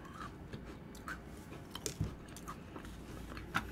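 Crunchy sweet dessert snack being chewed close up, soft irregular bites with a few sharper crackles scattered over a quiet, steady background.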